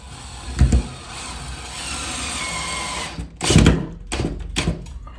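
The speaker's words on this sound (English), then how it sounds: "And I'm going to set a couple screws." Cordless drill driving screws through drywall to secure loose corner tape, with a short burst near the start and then several quick whirring runs close by, separated by brief pauses.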